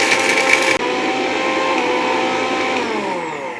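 A small low-cost electric mixer-style grinder whirs loud and steady as it grinds pepper, cinnamon and cumin, with a brief dropout near the start before the motor keeps spinning continuously.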